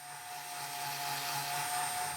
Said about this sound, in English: Going to the sander and just trying to shape the handle.